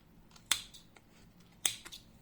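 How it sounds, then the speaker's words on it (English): Scissors snip through yarn for a crochet fringe: two crisp, close cuts about a second apart in an otherwise quiet setting. "third time wrapping, and I am cutting the yarn."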